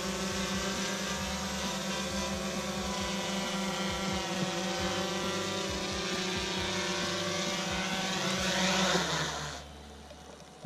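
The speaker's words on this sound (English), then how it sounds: "there I've landed my first drone" A GoPro Karma quadcopter drone hovers and descends to land, its rotors giving a steady high-pitched buzzing whine that holds loudly and close, then drops away abruptly as the motors stop near the end.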